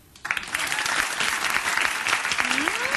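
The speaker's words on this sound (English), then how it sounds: "Audience applause." Studio audience at a television talk show breaks into loud, sustained applause that begins abruptly and holds steady for a few seconds, with a brief vocal tone rising near the end.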